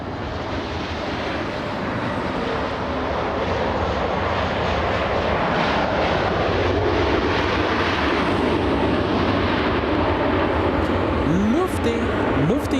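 Lufthansa airliner at LAX as it begins to move, a steady broad jet engine roar heard from a distance, building slightly over time.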